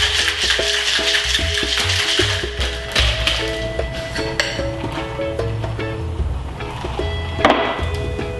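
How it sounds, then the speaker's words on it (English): Cocktail shaker packed with ice being shaken while making a Yellow Bird cocktail, giving a continuous rattling clatter of ice against metal, close and loud throughout with no speech. "we're gonna shake it up"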